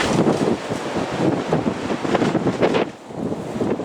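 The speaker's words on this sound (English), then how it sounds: "This alleyway is notorious for the wind." Strong wind gusting through an alleyway, a steady loud roar with rumbling buffeting against the microphone, surging and easing briefly before building again.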